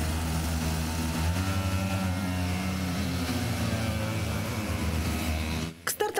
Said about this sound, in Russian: и вот уже слышен рев моторов.